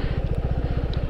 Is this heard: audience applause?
no